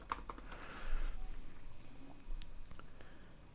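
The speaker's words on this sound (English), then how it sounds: "type in my password" Fingers typing a password on a computer keyboard, a short quick run of light key clicks and taps, close and fairly quiet, lasting a few seconds.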